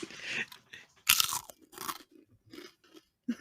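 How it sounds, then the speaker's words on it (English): Food crunches in bursts of chewing, a few sharp, close bites separated by quieter munching and short pauses. "Everybody's getting some nice crunching ASMR."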